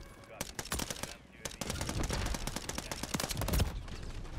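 Pistol gunfire in Modern Warfare, fast repeated sharp shots in quick bursts with brief pauses, loud and close against game background, with a voice talking at times.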